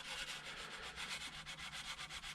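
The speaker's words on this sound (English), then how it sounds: "Fingernail plus SOS pad equals" A tail light lens from a Box Chevy Caprice being scrubbed with a fingernail and an SOS pad, a faint, close, rhythmic scratchy rubbing with quick even strokes and no voices.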